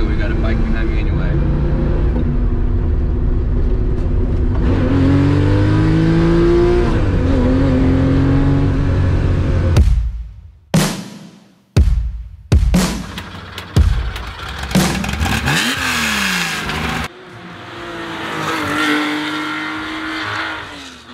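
A 1972 Porsche 911 hot rod with a twin-plug engine idles loudly, then snaps through a series of sharp, short revs with gaps between them before settling into a steady idle.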